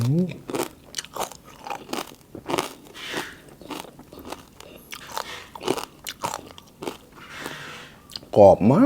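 Crispy Thai pork belly is bitten and chewed up close, producing a run of sharp, loud crunches and crackles in irregular rhythm, with a voice speaking briefly between bites.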